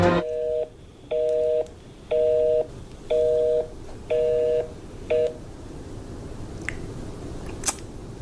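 A run of six evenly spaced touch-tone telephone dialing beeps, loud and clear, each about half a second long, followed by a quiet stretch with faint background noise.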